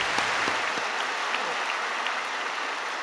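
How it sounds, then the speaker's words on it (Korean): A church congregation claps steadily together at a New Year's Eve worship service, a sustained wash of applause at fairly loud level with no voices standing out. "하나님께 모든 영광과 박수 올려드리겠습니다."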